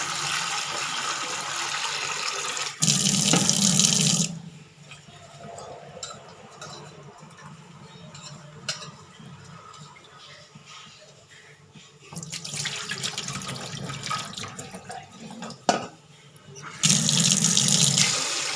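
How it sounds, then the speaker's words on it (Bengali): Tap water runs into a kitchen sink to soak rice, loud gushing bursts at the start and end with quieter clinks and handling sounds between. "এবার চালটা ভিজিয়ে নিই।"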